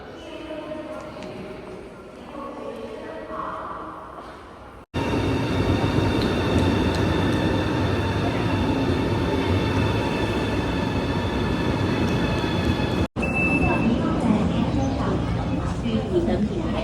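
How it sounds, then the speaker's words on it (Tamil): A train in China rumbles past at speed with a steady loud roar and rail clatter, after a few seconds of quieter talking beforehand. "இப்போ ஒரு ட்ரெயின் ஒன்று இந்த பக்கம் இருக்கு பாருங்க எவ்வளோ வேகத்தில் வருதுன்ட்டு"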